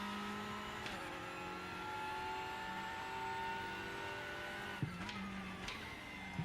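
A front-wheel-drive TCR race car in the RaceRoom racing game holds a steady, faint engine whine, with a couple of sharp shifts or bumps near the end. Nobody speaks.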